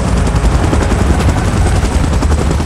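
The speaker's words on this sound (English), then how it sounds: "Chopper in position." A helicopter flies in a Godzilla vs Kong video game, a loud, continuous, rapidly pulsing rotor thump that holds steady throughout with no talk over it.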